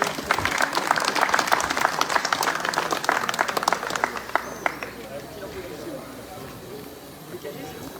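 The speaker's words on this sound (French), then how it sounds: "il faut applaudir" Audience applause at a museum inauguration in Longages, dense clapping for the first four seconds, then thinning and fading into scattered claps and quiet room noise.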